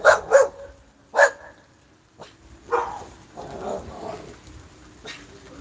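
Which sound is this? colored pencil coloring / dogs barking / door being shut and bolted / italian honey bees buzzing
dogs barking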